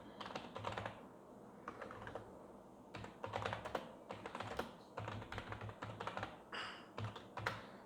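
Rapid clicking keystrokes on a computer keyboard as a password is typed, coming in quick bursts with brief pauses, close and fairly quiet.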